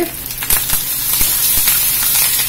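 Dried red chilli and curry leaves sizzle steadily in hot oil, giving a loud, bright crackling hiss with sharp pops and spits scattered throughout.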